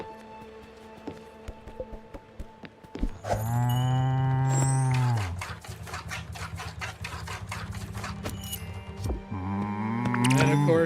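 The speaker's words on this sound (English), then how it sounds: "There's the cow. You can milk the cow." A farm cow in a life-simulation video game gives several long, loud, drawn-out moos with strong harmonic tones, separated by quieter stretches of background game sound.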